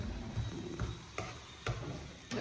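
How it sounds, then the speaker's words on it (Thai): Food being stir-fried in a pan right after fish sauce goes in, a steady sizzle broken by four sharp spatula scrapes spaced roughly half a second apart, close and fairly quiet with no talking. "ใส่น้ำปลาจ้า พอ ดูผัดทีหนึ่ง"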